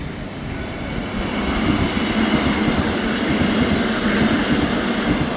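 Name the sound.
REM light rail train arriving at Côte-de-Liesse station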